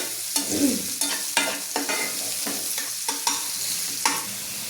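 Onions are stirred and sautéed in a pan for a Marathi ridge-gourd thecha, with a steady frying sizzle broken by repeated scraping strokes of the spoon, close and clear.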